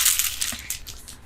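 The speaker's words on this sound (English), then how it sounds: "As you guys hear the shaking, that's because I got beads in my hair again" Beads braided into someone's hair shake and clatter in a brief, close burst of bright, small rattles that quickly fade, with no talking.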